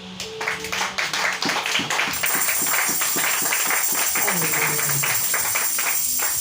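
A congregation claps during a church worship service, building from scattered claps into dense rhythmic clapping with a steady tone sounding under it.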